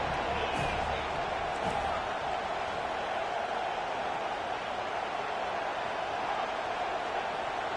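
A steady, loud roar from a stadium crowd in the NCAA 25 college football video game, during a Houston versus Florida State matchup, holds evenly throughout with no break or swell.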